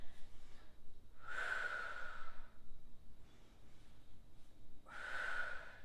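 Two slow, audible breaths during pilates ab curls, each a soft airy rush lasting about a second, close to the mic, separated by a quiet pause, with no talking.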